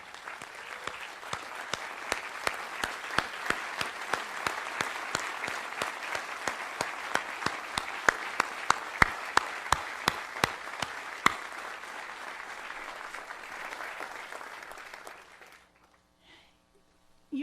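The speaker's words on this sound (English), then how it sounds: "I'd like to have a round of applause for everybody here" Audience applause at a commencement ceremony, steady clapping from many hands with distinct sharp claps standing out, sustained for about fifteen seconds before dying away.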